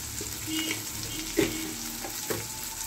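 A spice mixture with turmeric and sugar fries and is stirred in a pan for vegetable moong dal, a close, steady sizzle with a couple of brief spoon scrapes.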